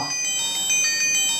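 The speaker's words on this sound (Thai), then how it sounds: "อันนี้เป็นเสียงที่ดังมาจากสมาร์ทวอทนะครับ" M6s SIM-capable smartwatch ringing for an incoming call, a steady high electronic ringtone with faintly pulsing tones repeating about every quarter second, close and moderately loud with no talking.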